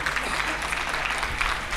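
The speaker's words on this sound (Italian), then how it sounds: "Un bel applauso ad Andrea Benigni." Applause from a concert audience in Follonica welcoming the town's mayor to the stage, a steady dense patter of clapping throughout with a faint low hum underneath.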